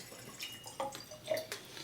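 A small trickle of water poured into a glass of peated Islay whisky for tasting, with soft drips and splashes heard faintly over a quiet room.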